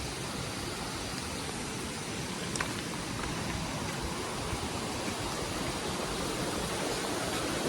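The Sunpale river stream rushes beneath a swinging bridge, a steady broadband water roar that stays constant and fairly close throughout with no voices.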